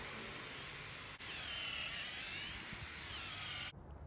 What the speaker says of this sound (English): Mark the hole and then drill all the way through to connect the two holes.